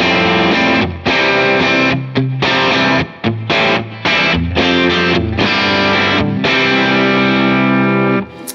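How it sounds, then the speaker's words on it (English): Electric guitar played through a second overdrive pedal on a four-pedal board, a dense run of loud, thick, distorted chords with brief stops and restrikes between them, ending on a held chord. "So here's what my second overdrive sounds like."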